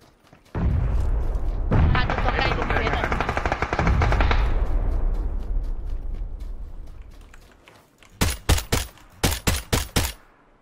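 Sustained loud machine-gun bursts in a shooting video game for several seconds, fading, then a series of sharp separate shots close by at the end.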